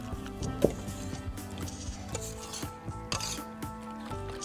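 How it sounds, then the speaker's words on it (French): Salt cod fritter batter stirred in a bowl, giving continuous close rubbing and scraping strokes over a low steady hum. "Puis nous allons mélanger."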